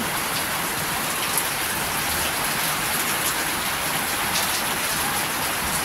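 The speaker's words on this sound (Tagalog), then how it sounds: "Ang lakas ng ulan." Heavy rain falls in a steady, dense hiss, pattering loudly on surfaces close by without letting up.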